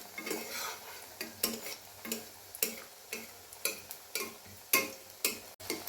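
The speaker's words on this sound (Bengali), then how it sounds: "মিডিয়াম হিটে ভাজছি" Leftover bread pancake pieces frying in a little oil over medium heat, a low sizzle broken by regular, evenly spaced clicks of a utensil against the pan.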